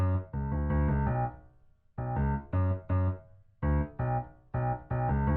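Grand piano bass notes from a Keyscape preset in a Baton Rouge-style beat, played alone as a short pattern of sustained low chords and repeated stabs with brief gaps, full and close.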